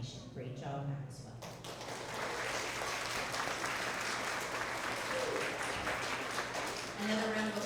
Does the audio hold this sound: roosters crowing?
no